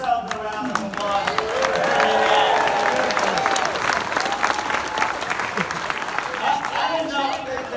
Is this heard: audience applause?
yes